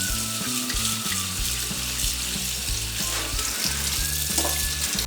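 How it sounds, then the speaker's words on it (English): Potatoes are washed in water, a steady close wash of running and sloshing water with soft, irregular knocks and rubs throughout, no voices. "I'm going to wash these potatoes"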